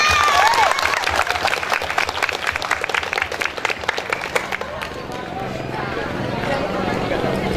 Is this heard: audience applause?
yes